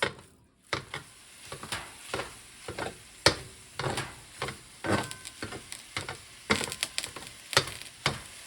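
Stainless steel meat chopper repeatedly pressing and breaking up ground meat cooking in a pan, a steady series of close scraping, crunching strokes over a low sizzle.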